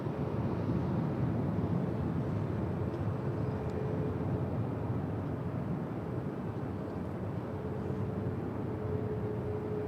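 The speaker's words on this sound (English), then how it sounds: "It's a 737 MAX 8 is our next departure here on 24 left" A Boeing 737 MAX 8 departs runway 24 Left at LAX, a steady, broad jet engine roar heard from a distance that holds throughout without talk.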